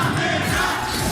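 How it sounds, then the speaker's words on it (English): Esports arena crowd at the Brawl Stars World Finals 2023 roars and cheers steadily, a dense continuous wall of loud crowd noise throughout. "Crowd is going electric"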